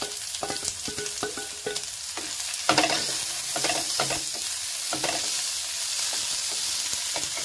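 Sour tomatoes frying in a pan for a bhindi-tomato tadka, a steady loud sizzle broken by repeated scraping clinks of a spoon stirring them, with no voices.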